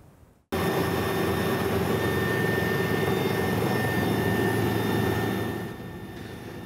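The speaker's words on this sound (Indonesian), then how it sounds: "Evakuasi dilakukan menggunakan helikopter milik TNI." A military helicopter used in an evacuation in Timika, Papua, thunders in abruptly after a brief quiet moment, a loud, sustained rotor and engine roar close by that eases slightly near the end.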